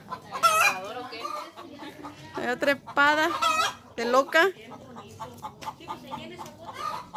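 A hen squawks and clucks in a few loud bursts, with a person speaking briefly over the sounds.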